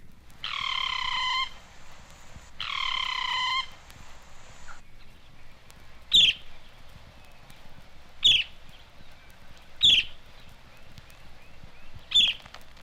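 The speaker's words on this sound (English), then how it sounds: "Also, near the road is a boat-billed flycatcher." A boat-billed flycatcher calls near a roadside in Mexico: two drawn-out, nasal, buzzy calls come first, then four sharp, separate chirps spaced about two seconds apart. The calls are fairly close and there is no talking.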